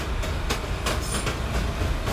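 A subway train runs on the tracks in snowy weather, with steady loud rumbling and rhythmic clickety-clack of the wheels over rail joints, heard close up from aboard.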